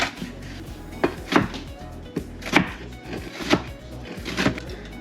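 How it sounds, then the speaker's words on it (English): A knife chops vegetables lengthwise on a board in a kitchen, sharp irregular thuds spaced roughly half a second to a second apart, close and moderately loud over a low background hum. "I always like chop these nice and fine. So I always get it like this, and I just start chopping it longwise"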